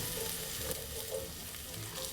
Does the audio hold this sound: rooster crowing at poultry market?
no